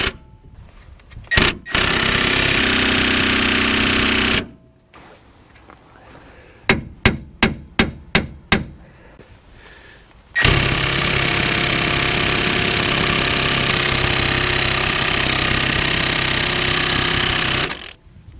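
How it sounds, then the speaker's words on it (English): Impact wrench hammering a lower ball joint out of a 2014-2018 Chevy Silverado, loud close bursts: a short burst, a long run, a string of quick single hits, then a second sustained stretch, with no talk. "So continuing to use the impact will just push it the rest of the way through."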